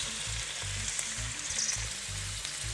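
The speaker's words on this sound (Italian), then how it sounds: "Una volta rosolato la pancetta, aggiungo i spicchi di carciofi scolati naturalmente dal liquido." Drained artichoke wedges frying in a pan with browned pancetta and onion, a continuous close sizzle with faint crackles and a low repeating hum underneath.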